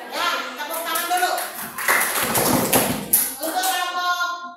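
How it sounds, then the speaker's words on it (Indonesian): Children clap together in a classroom, a short burst of hand clapping in the middle, with voices talking before and after it. "Ya, tepuk tangan dulu."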